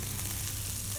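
Onion frying in a pan with lamb fat while being stirred, producing a loud, dense, continuous sizzle over the whole moment.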